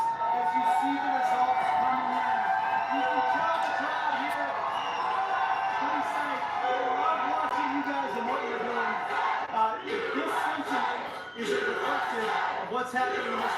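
An excited crowd at a 2024 presidential election night rally roars with scattered whoops and shouts over a dense bed of crowd chatter, loud and sustained throughout.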